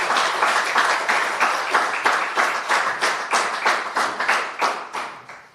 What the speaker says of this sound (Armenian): Եվս մեկ անգամ ծափարել նրա մարդ տեսակի համար